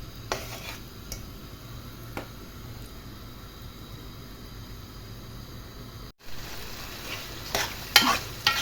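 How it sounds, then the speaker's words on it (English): Curry frying in hot oil sizzles as a steady hiss close by, with faint clinks and scrapes of a pan and utensil, a short break near the end, then louder stirring noises. "So this is me burning the curry in the oil."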